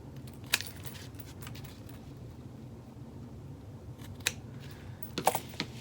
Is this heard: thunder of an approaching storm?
no